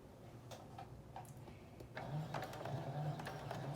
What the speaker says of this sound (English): she is going to sew it just straight down right along that folded edge